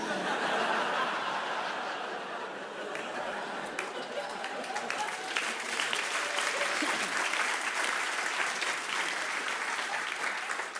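Audience applause and laughter at a stand-up comedy show: steady clapping from a large crowd mixed with chuckles, holding loud and even throughout, with the clapping growing denser toward the end.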